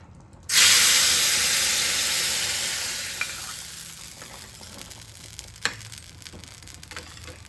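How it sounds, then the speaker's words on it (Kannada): A sudden loud sizzle as spices drop into hot oil, then a steady hiss that slowly fades, with a couple of faint clinks. "ಸೊ ಈಗ ಒಗ್ಗರಣೆ ಕೂಡ ಹಾಕ್ಕೊಂಡಿದ್ದಾಯಿತು."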